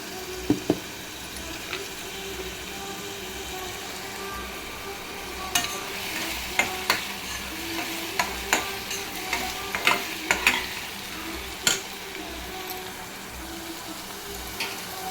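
Tomatoes stirred and mashed into a coarse paste in a pan for a split chickpea tomato onion masala, with a steady low sizzle and repeated sharp taps and scrapes of a spoon against the pan in an uneven rhythm.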